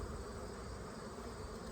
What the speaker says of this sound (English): Oh my god, these bees are crazy